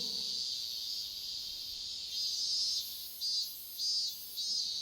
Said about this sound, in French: Deux personnes ont entendu seulement la voix de la cigale.